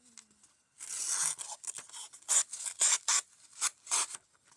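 A CJRB Tigris knife rasps through material in a series of close, gritty scraping strokes, some long and some short, loud against otherwise quiet surroundings.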